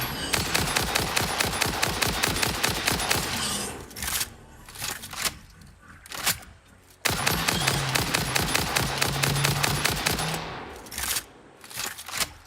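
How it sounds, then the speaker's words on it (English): Rapid automatic rifle fire aimed at a large tick-like creature in the game Satisfactory, loud and close in two long sustained bursts with short pauses and scattered shots between them. "Alright, 3 magazines from a rifle kills the big tick brontosaurus."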